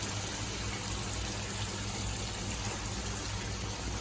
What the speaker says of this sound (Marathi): तर आपल्याला काजून करायचं आहे तर थोडंसं पाणी जास्त टाकावं लागेल